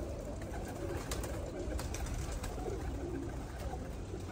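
Pigeons cooing in a loft, soft repeated coos over a steady low rustle of birds close by, with no talk.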